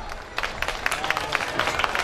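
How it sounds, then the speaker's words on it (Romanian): Audience applause at a stage event, fairly faint and brief, with scattered individual claps rising and falling over a soft crowd murmur. "Aplauze"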